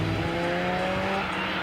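A car accelerates hard around a historic racing circuit in Auvergne, its engine a loud, steady roar with sustained harmonic tones that hold for over a second before easing slightly.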